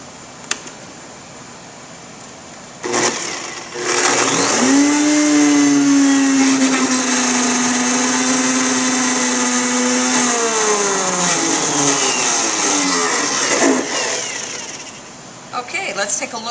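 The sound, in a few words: immersion blender pureeing strawberries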